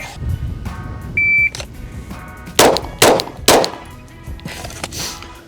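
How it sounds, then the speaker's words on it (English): Three gunshots crack at a shooting range, evenly spaced and close, each a loud sharp report. A short electronic beep comes just before them, and a fainter extra bang follows at the end. "So with just those 3 shots, you can be super intentional about your shooting."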